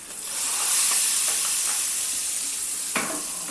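Hot tempering hits a peanut khatta with a loud, close, bright sizzle. The hiss swells, then eases, and a sharp spatter bursts near the end.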